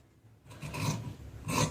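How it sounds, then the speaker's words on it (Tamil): Scissors cutting through salwar pant fabric along a marked line, two short rasping snips that are close, soft and alone with no talk. "இப்போ கரெக்டாக நான் மார்க் பண்ண இடத்துல இதை நான் கட் பண்ணி எடுத்துடுறேன்."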